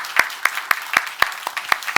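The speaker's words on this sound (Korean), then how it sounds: "박수해 주세요" At a Sunday morning church service, a congregation claps in a crisp, evenly spaced rhythm of about four sharp beats per second, the claps landing close together and loud throughout.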